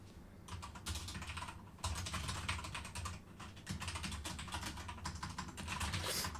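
Rapid typing on a loud computer keyboard, dense clattering keystrokes in continuous bursts with brief pauses, close and crisp, with no speech.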